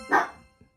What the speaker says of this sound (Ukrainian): Вибачаю, то мій пес.